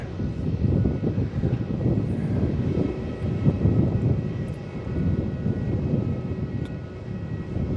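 A Boeing 777-300ER airliner at Melbourne Airport rumbles steadily at moderate distance, a broad low engine roar that holds level throughout with slight swells and no voices.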